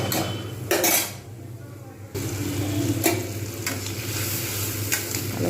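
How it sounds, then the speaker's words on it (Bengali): Rui fish curry with black cumin seed being stirred and sautéed in a pan over low heat, a spoon scraping and clinking against the metal in steady strokes beneath a continuous soft sizzle, close and moderately loud. "ভালো করে কষে নেব"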